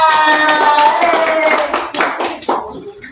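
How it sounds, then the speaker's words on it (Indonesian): A classroom of students clapping for a classmate, a short burst of scattered, uneven claps close by, with a voice sounding over the start before it trails off. "tepuk tangan buat Mbak Arya"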